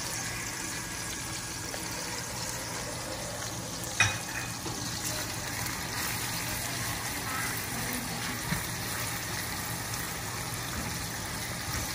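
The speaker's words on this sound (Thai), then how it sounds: "ใส่น้ำมันแล้วก็ หอมแดงที่เราเจียวเมื่อกี้นะคะลงไปผัดด้วยกันค่ะ ให้หอมนิดนึง ตามด้วยกุ้งแห้งนะคะ" Fried shallots and dried shrimp stir-fried in hot oil in a large wok for pad thai, giving a steady close sizzle and crackle throughout, with a couple of sharp scrapes of the spatula against the pan.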